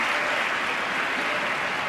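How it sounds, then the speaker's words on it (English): Dense, sustained applause fills the US Capitol chamber after the Pope's address, a loud, even roar of many hands clapping with no pauses. "Speaker Boehner had also tried to ban applause, but that didn't work."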